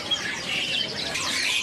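A caged white-rumped shama (murai ekor panjang) at a bird seller's kiosk gives bright, fluttering high chirps and squawky calls in a continuous jumble, fairly faint against a busy background.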